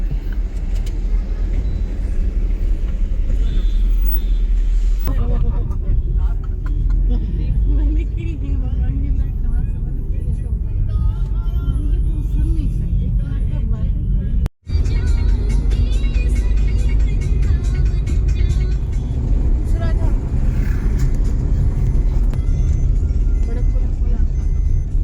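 A car carrying pilgrims on the Braj 84 Kos yatra drives along with a steady, loud engine and road rumble throughout, a brief cutout midway, and muffled voices talking inside the vehicle.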